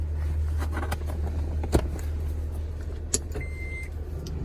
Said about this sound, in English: This is somewhere in the neighborhood of 29, 30 feet per minute, and I don't think the truck even knows it's moving.